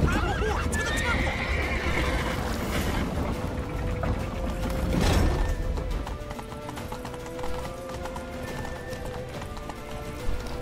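Horse hooves clop rapidly while a horse whinnies loudly, set in a dense, busy mix of game sounds from The Witcher 3: Wild Hunt.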